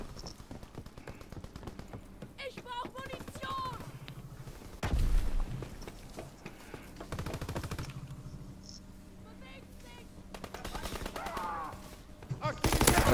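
Machine-gun bursts and single rifle shots in Call of Duty: WWII multiplayer, ending in a headshot kill, with rattling volleys and several heavier thumps under intermittent speech.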